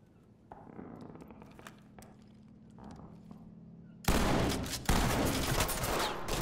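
Gunfire in the tactical shooter Ready or Not: quiet, scattered shots and footsteps at first, then loud, sharp bursts of close gunfire hitting hard near the end.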